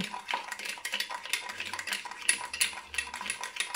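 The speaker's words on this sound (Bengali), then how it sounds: "কফি চিনি একসঙ্গে ভালো করে মিশিয়ে নিয়েছি" A spoon stirs coffee, sugar and a spoonful of milk in a cup, scraping and clinking rapidly against the sides in a busy, uneven rhythm, close and clear with no voices.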